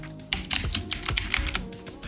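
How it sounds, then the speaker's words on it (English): Rapid, uneven keystrokes on a computer keyboard while entering commands on a Proxmox VE system, close and clear, with a steady low hum beneath and no voices. "Okay, so we're going to type"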